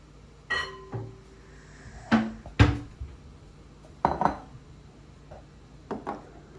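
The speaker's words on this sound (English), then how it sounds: "I'm going to grab a small bowl here." A few sharp clinks and knocks of a small dish being picked up and set down, spaced apart in a quiet room.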